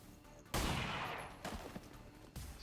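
Ballistic pistol fire in XCOM 2 Long War of the Chosen: one loud, close shot with a long ringing decay, then a few quicker, sharper shots in a short burst near the end.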